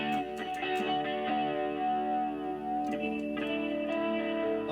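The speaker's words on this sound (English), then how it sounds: "So let me turn the Julia off so you can just hear the chorus" Guitar played through a Walrus Julia chorus pedal: shimmering, warbling sustained chords with a few plucked attacks, steady and moderately quiet, with no voice over it.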